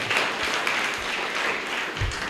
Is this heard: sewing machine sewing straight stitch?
no